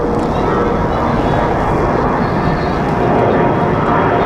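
CRJ regional jet taking off at Raleigh-Durham International, a steady loud broadband engine roar that holds without a break, swelling slightly near the end.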